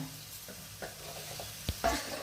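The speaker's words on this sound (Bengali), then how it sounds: "লবণ চিনি দেওয়ার পর পেঁয়াজ রসুন আদা বাটা পেস্টটাকে একটু নাড়িয়ে নিচ্ছি, মানে একটু ভেজে নিচ্ছি।" Onion, garlic and ginger paste with salt and sugar stirred and fried in a pan for a prawn coconut curry, a soft steady sizzle with a few scattered scrapes and clinks of the spoon, close by.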